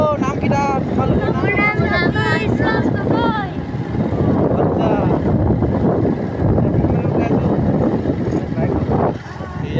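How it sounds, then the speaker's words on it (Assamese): Motorbike ride on the way to a Bihu celebration: a steady engine drone and wind rush fill the whole stretch while people talk loudly over it. "এয়া বাইকখন চলাচল গৈ আছো"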